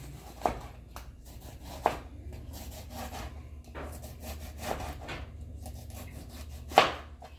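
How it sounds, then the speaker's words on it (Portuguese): Knife slicing tomato on a wooden board, with repeated soft cutting strokes and a few sharper taps of the blade on the wood, close by and fairly quiet. "Agora eu tô cortando aqui o tomate"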